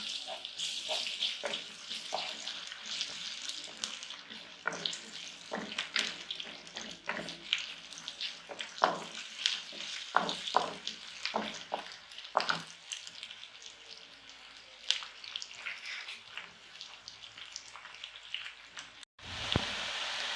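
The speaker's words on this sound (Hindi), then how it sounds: "अब इसमें हम लहसुन और अदरक का पेस्ट डाल रहे हैं। इसको हम फ्राई करेंगे थोड़ा सा।" Steady sizzling and crackling of garlic and ginger paste frying in a pan, with scattered pops and spits throughout, fairly quiet and close.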